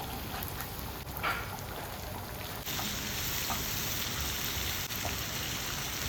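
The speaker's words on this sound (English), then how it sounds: "This is the part that would actually take time, frying of the tomatoes." Tomatoes frying in a pan make a soft, continuous sizzle with light crackling, fairly quiet and steady, with no voices.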